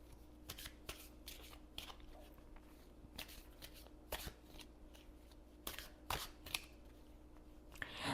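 Oracle cards shuffled close by in a quiet room, a steady run of soft riffling flutters and papery slaps with occasional louder snaps, no talking.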